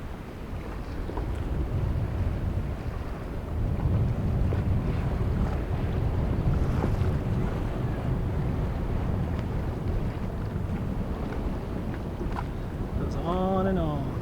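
A bouncing boat running on open water outdoors, with steady loud wind buffeting the microphone and broadband rush of hull and spray throughout; a faint voice surfaces near the end.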